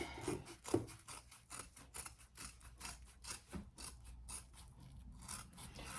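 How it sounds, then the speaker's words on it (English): Thick vinyl being trimmed with scissors, a series of close, crisp snipping and rasping cuts in an uneven rhythm, quiet and alone. "let's trim this down all the way around"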